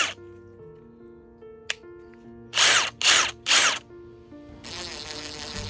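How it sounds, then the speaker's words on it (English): A power drill drilling into a pine cone whirs in three short pulses, then runs in a longer steady burst, close and loud against a quiet background. "When starting to drill a hole, you have to start slowly, then pulse it."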